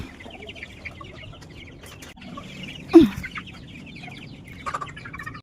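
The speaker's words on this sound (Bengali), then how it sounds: "এখানে মোট 11 পিস মোরগ আছে।" A flock of eleven roosters kept on a poultry farm cluck and murmur at close range, with one louder sharp call partway through and other faint bird chirps around them.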